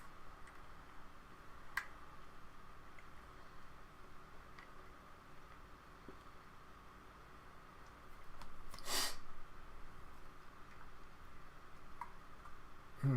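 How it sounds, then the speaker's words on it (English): In a quiet indoor room, one short, sharp sneeze bursts out partway through, surrounded by faint background hiss and a few small ticks. "Here come the sneezes."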